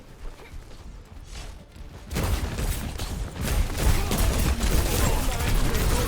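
Weapon fire from the tank hero Hazard in Overwatch 2, a sustained rattling barrage that starts abruptly and keeps going loud and close under the game's background noise.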